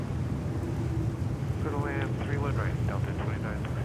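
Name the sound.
Boeing Dreamliner aircraft at JFK airport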